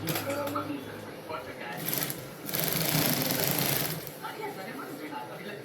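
Sewing machine stitching fabric in short bursts, a fast mechanical rattle up close with pauses between runs, while a person talks over it.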